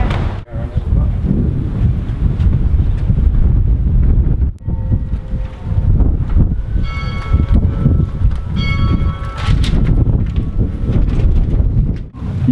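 Strong wind buffets the microphone on the coast at Piran, Slovenia, a loud steady roar with gusts; a bell-like ringing chimes in the background partway through.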